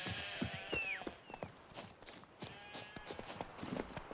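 Roach the horse's hooves clip-clopping in The Witcher 3, a steady series of sharp hoof strikes at walking pace, with a brief bird-like chirp early on and faint background ambience.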